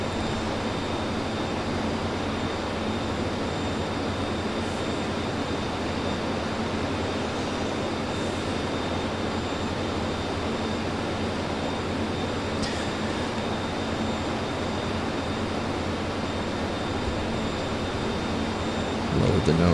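An F-14 jet climbing on full afterburner in Microsoft Flight Simulator 2020, a dense, steady roar of engine noise, loud and unbroken throughout, with no talk.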